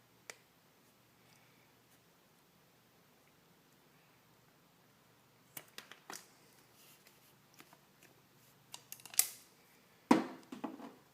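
A car side trim piece from an EF Honda being cut along a line, heard as sparse, faint snips and clicks scattered through the second half after a long quiet stretch, close by, with no talking.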